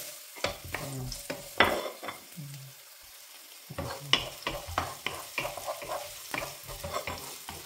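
Onions fry and get stirred in hot oil in a home kitchen pan for a fish escabeche, with close, loud bursts of sizzling and repeated scraping strokes, a brief lull in the middle, then steady stirring.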